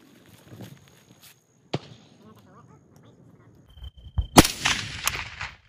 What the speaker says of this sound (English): Targets can be shot in any order, but only one hit per target